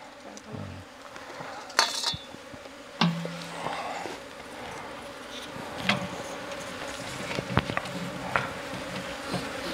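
Honeybees buzzing and flying around nearby, a continuous insect hum with occasional louder passes close by and small clicks in the background.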